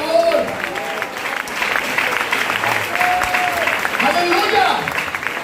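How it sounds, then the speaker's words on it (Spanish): A church congregation applauds during a Spanish-language sermon on faith, a broad wash of clapping from many hands with a speaker's voice carrying over it almost throughout. "Debe ese aplauso a Él, por favor."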